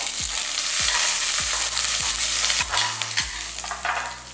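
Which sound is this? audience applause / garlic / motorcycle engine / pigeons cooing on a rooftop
garlic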